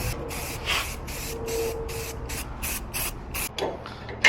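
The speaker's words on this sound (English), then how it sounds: "Getting it all painted up." Black spray paint hisses in repeated short bursts onto the tongue of an enclosed trailer, about ten sprays in a steady rhythm, close and fairly loud.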